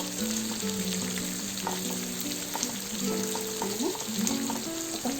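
Onions and dry red chillies sizzle and crackle steadily in hot oil in a pan for a cabbage and peas curry, a close, continuous frying hiss with occasional stirring and faint tonal hums.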